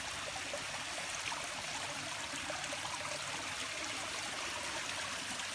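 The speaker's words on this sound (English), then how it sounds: "And the water came out from the waterfall." Water from a fish pond waterfall pours in a steady, close, even rushing splash that holds its level throughout, with no voices over it.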